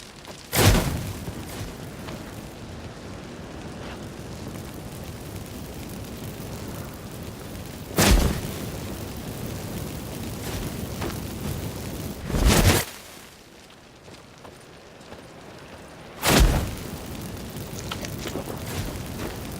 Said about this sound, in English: But first, let's burn this shack down.